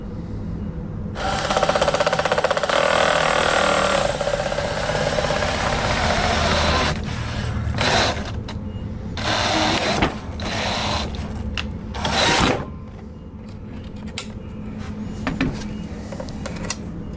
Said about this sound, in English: so we can drill our hole